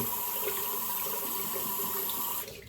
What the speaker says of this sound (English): Then we're going to wet our brush again.